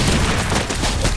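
Gunfire in Fortnite: a dense, continuous rattle of rapid shots filling the moment, loud and near, with no gaps between reports.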